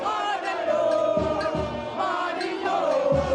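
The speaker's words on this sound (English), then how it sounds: "receiving chants and cheers from frantic onlookers" A carnival crowd of onlookers chants and cheers in rising and falling waves, loud and dense, with no single voice standing out.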